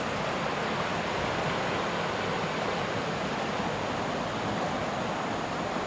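A river flowing beside a rural rice field in the Philippine countryside, a steady, dense rushing wash of water heard up close, continuous and without pauses.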